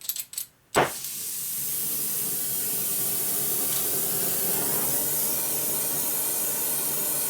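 A torch roars steadily as it heats a seized clutch cable part on a 1941–72 Harley WL motorcycle, a continuous hiss that starts abruptly after a second of clicks and stays constant; no talking.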